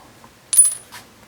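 A Chevette washer is set down on a metal surface, giving a single sharp, bright metallic clink with a short ring, followed by a fainter second tap. Nothing else is heard around it.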